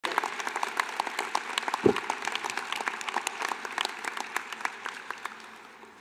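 Audience applause at a graduate hooding ceremony, a crisp, sustained round of clapping from a sizable crowd that gradually thins toward the end.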